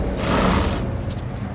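A sewing machine stitches stretchy pants fabric with a replaced presser foot, a loud, close, steady whirring run that drops off sharply after about a second.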